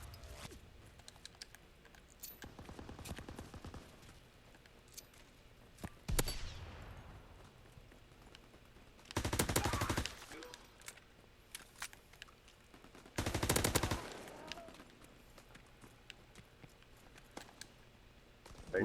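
Video game gunfire from a shooter's adventure mode: two loud sustained bursts of automatic fire plus a few scattered sharp shots, set against a busy background of game ambience.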